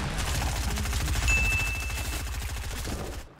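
Rapid gunfire in Fortnite Battle Royale rattles out as a fast, evenly spaced burst of close, loud shots lasting about three seconds, with a brief ding partway through, then cuts off.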